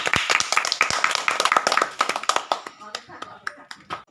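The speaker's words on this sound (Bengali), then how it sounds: "এর জোরে হাততালি" A small group claps for a prize winner at a village dice-rolling ludo game, a short burst of brisk hand claps that thins out and fades within a few seconds.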